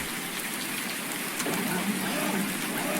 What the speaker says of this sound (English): you wouldn't be doing that in such heavy rain as this